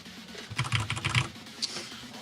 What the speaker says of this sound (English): You just typed it with your loud keyboard.